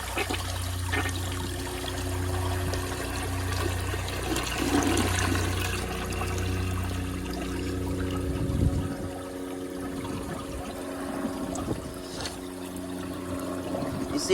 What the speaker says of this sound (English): it almost wants to do a double, it almost wants to siphon again